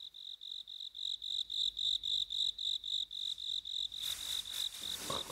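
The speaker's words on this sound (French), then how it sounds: "il n'y eut plus dans l'air que le crissement des grillons" Crickets chirping at night in a forest, a rapid pulsing high-pitched trill repeating steadily, fairly quiet, with a brief rustle near the end.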